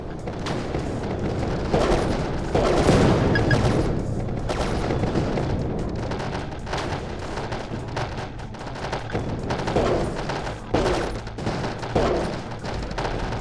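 Sustained heavy gunfire and explosive booms hit a mech in the video game RIG Riot, forming a dense, loud, continuous barrage with no clear pauses.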